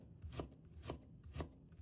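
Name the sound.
knife cutting peeled ginger into slices and strips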